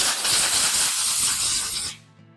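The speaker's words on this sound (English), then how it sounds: "We'll just take the compressed air" Compressed air hisses loudly and steadily for about two seconds while blowing out a sanded Honda CR250 engine cover, then cuts off abruptly, leaving only a low residual tone.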